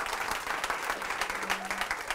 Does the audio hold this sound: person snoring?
no